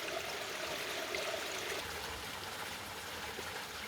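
Water running steadily in a small stream on a rural property, partly obstructed by debris near a little ramp; a continuous close, broadband rushing and trickling with no voices.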